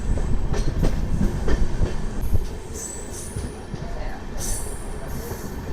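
An Amrit Bharat Express pulls away from Warangal station, wheels clattering and rumbling loudly at first, then easing to a steadier roll with thin squeals of metal on rail.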